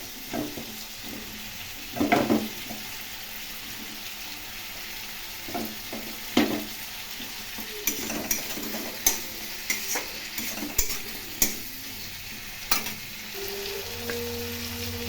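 Carrot and capsicum stir-frying in a pan for a fish-head mixed vegetable rice, a steady background sizzle broken by a series of sharp spatula scrapes and clinks, close and moderately loud, with no talking.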